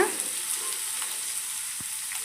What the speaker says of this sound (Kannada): ಬೀನ್ಸ್ ಕ್ಯಾರೆಟ್ ಕಾಳು ಪ್ರತಿಯೊಂದನ್ನು ನಾವು ಹಾಕಿ ಚೆನ್ನಾಗಿ ಎಣ್ಣೆಯಲ್ಲಿ ಲೋ ಫ್ಲೇಮಲ್ಲಿ ಬಾಡಿಸಬೇಕು